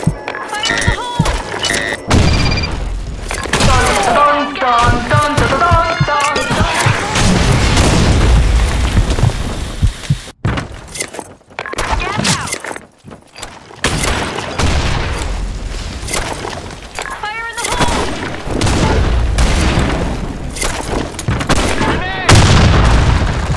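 Booming grenade blasts and gunfire in a multiplayer shooter game, loud and dense over a continuous mix of game noise and music, with players' voices talking over parts of it.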